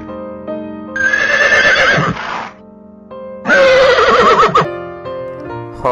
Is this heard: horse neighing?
yes